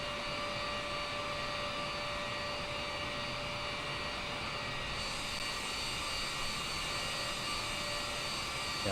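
Boeing 787 jet engines in Microsoft Flight Simulator 2020, a steady, even whine and roar holding constant throughout with a sustained tonal hum, moderately quiet and uninterrupted.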